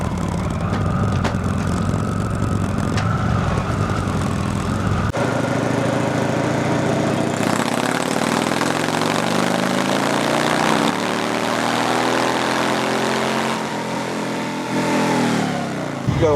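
An Indian Chief Vintage motorcycle engine running on a dyno, a steady loud drone that climbs and shifts in pitch as it revs, close and continuous with no talking.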